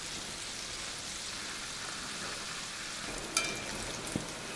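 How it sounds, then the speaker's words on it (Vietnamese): Steady broadband sizzling of fish frying in hot oil, constant and close, with a couple of faint clicks near the end. "mình cho cái phần cá còn lại vào chiên tiếp nè"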